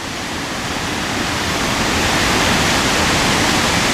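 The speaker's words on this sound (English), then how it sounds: "So look at this stream," A stream in Iceland rushes loudly near a frozen waterfall, a dense, continuous roar of churning water that fills the whole moment without pause.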